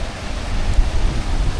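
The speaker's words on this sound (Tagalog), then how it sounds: "Ang lakas ng alon." Strong waves of water at Bluerock campground in Kananaskis, Alberta: a loud, steady rushing and churning that fills the whole stretch, with gusts buffeting the microphone and no voices.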